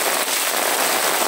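Rain falls over the city of Sobral, Ceará, a dense, even hiss of countless drops with no pauses, loud and close throughout.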